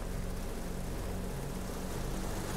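A propeller plane's engine in a flight video game drones steadily and loudly with a buzzing, rumbling tone, alone and unbroken.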